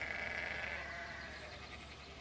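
A flock of sheep being driven through a gate bleats in a continuous, close-up chorus, loud at first and easing slightly toward the end, with no voices present.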